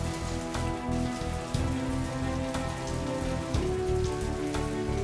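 Heavy summer rain pours down steadily in a dense, continuous downpour, close and loud throughout with scattered heavier drops striking surfaces, and no voices.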